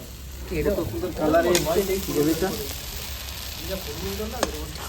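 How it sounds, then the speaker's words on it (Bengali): Three chopped tomatoes drop into a pan of fried spices for a village-style chicken kosha, giving a soft, close sizzle and stirring scrape, with a person talking over it. "এবার দেবো এখানে আমি তিনটে টমাটো কেটেছি তিনটে টমাটো দিয়ে দেবো দেখো"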